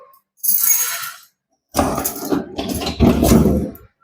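A bunch of keys on a ring jingles in two metallic bursts, one brief and a longer second, loud and close, while someone hunts for the right key to a deadbolt door lock.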